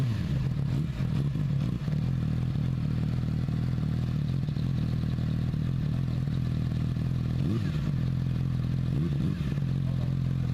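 A brand new sport motorcycle idles with a steady low engine drone, rising in a couple of brief revs near the end. The machine is close by and there is no talking.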